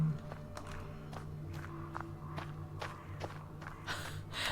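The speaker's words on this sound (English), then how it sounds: "I could hear her stomping away" A woman stomps away across a dark stable in a horror game, heavy footsteps thudding at an uneven pace with regular impacts, faint and distant with no talking.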